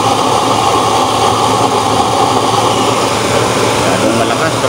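A burner with a twisted-hole nozzle roars with a loud, steady, broadband rushing flame, constant throughout with no breaks, while a voice speaks faintly underneath.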